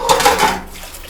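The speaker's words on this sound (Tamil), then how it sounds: "இப்போ அதுக்கு தேவையான தண்ணி ஊற்றிடுறேன்" Water splashes and gurgles into a metal cooking pan for lunch-box rice, a close, brief burst that tapers off into quiet.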